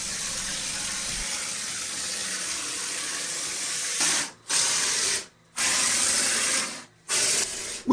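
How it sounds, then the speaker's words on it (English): A specialized spraying machine blasts parging onto damaged basement walls around electrical boxes and water meters, a steady loud hissing spray broken by several abrupt stops and restarts. "Using a specialized spraying machine, we were able to fill in the damaged areas behind obstacles like electrical boxes and water meters."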